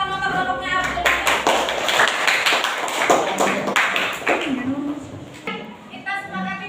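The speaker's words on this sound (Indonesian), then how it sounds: "beri tepuk tangan untuk kelompoknya Abdul Wahid." Classmates in an Indonesian classroom give a group of students a round of applause, with a burst of clapping from many hands lasting several seconds and a teacher's voice speaking at the start and end.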